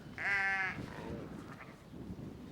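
A sheep on a farm gives one loud, close bleat, followed by quieter rustling and low background noise.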